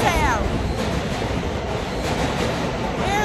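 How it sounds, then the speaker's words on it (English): An R line subway train rumbles loudly past as it arrives at the station, with steady rolling noise and a faint high brake whine at the start and end. "Here's the R train. We're getting on the R train."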